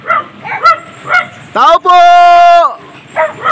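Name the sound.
dogs barking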